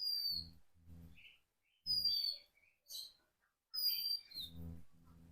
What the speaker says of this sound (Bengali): কি সুন্দর পাখি ডাকছে, তাই না?